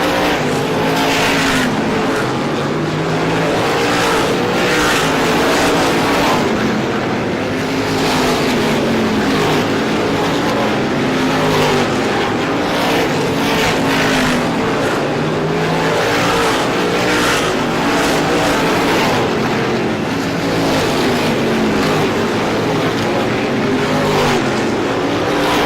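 Stock cars in the ISMA Classic 150 at Star Speedway roar around the oval in a continuous loud engine drone, rising and falling as the pack passes by, with no talk over it.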